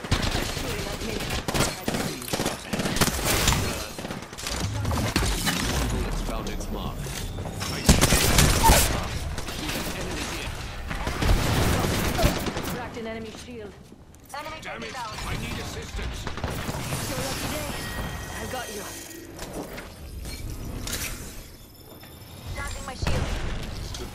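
Video game gunfire sounds in dense bursts of rapid shots and booming impacts throughout, aimed at the player, loud and continuous with a player talking over it.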